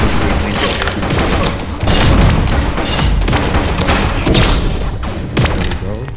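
Rapid minigun fire in the Pixel Gun 3D game, a dense continuous barrage of booming, thudding shots that runs loud throughout with brief swells.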